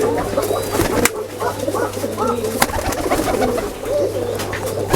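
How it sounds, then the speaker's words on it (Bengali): High-flying pigeons coo continuously over a steady hum and background bustle, their low calls blending together, with a few sharp clicks. "এগুলো হাই ফ্লাই কবুতর অনেক ওড়া কবুতর"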